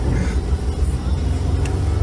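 A Holden Adventra engine labours on a sandy off-road track in Australia. The low, steady rumbling drone holds at an even loudness throughout, with faint background noise on top.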